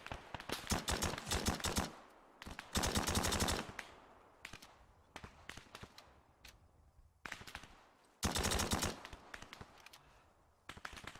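Machine guns rattle in a military video game, several long bursts of rapid close fire separated by scattered single shots and quieter gaps, loud and sharp throughout.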